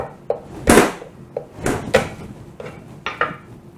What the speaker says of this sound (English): You can crush garlic with a paring knife.